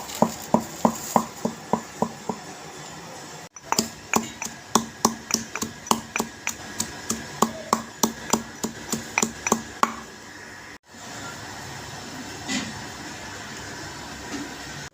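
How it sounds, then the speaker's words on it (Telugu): Ginger, garlic, cumin and poppy seeds are pounded in a mortar, giving steady rhythmic thuds with sharp impacts that repeat in regular bursts, loud and close, with short pauses between runs and no talking. "అల్లం వెల్లుల్లిపాయలు జీలకర్ర మరియు గసగసాలు వేసుకొని బాగా దంచుకోవాలి"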